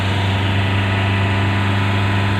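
A Hyundai i20 engine being revved after a smoke and knocking repair, a loud steady close-up drone with strong low hum and constant vibration throughout.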